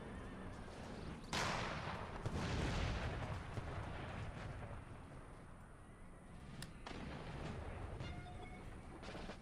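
Battlefield din from Empire Total War, with booming artillery and rolling musket gunfire across a dense, noisy soundscape, horses whinnying and hooves mixed into the continuous roar.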